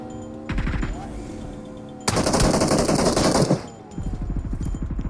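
Automatic gunfire in the mobile battle royale game PUBG Mobile: rapid bursts of close shots, then a long dense volley of several seconds, followed by another quick burst, loud against faint game background.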